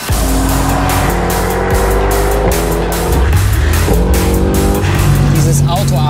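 A Mercedes-AMG on Michelin tyres accelerates hard out of the Adenauer Forst section of the Nordschleife, its loud engine roaring and shifting up through the gears with tyres squealing as the car slides, while people talk over the noise.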